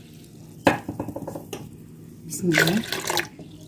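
Two cups of water go into a blender jug for crepe batter: a sharp clatter of the jug, then a short, gushing pour a moment later, with a voice speaking quietly around it.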